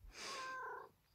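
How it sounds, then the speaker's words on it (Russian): A domestic cat makes a single close, soft sound lasting about a second, with no voices. "Вы у меня самые красивые коты."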